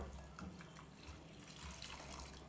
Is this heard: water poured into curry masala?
yes